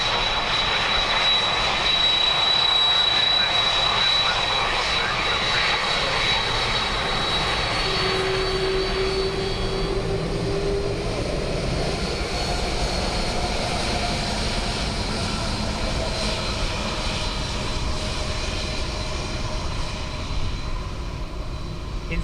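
Airliner on approach to Dublin Airport on a windy day, a steady loud engine roar that fills the whole stretch without a break, with a faint high whine drifting over it.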